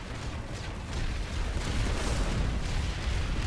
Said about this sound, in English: For some reason, I thought I could damage a mag rider with normal bullets.